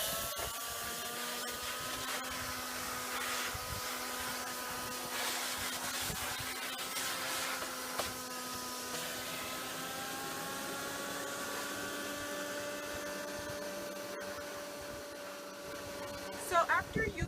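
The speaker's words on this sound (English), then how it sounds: "take a shop vac and just try to get out as much of the dirt as" A shop vac sucks dirt out of a used plastic nursery container, a steady whining motor drone with shifting tones and brief rattles of debris, lasting throughout with a voice speaking over it.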